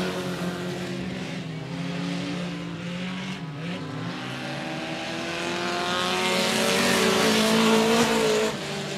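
Race cars roar around a speedway track in a regular race program, a loud continuous engine drone with shifting pitch as the cars pass, swelling louder toward the end with no talk.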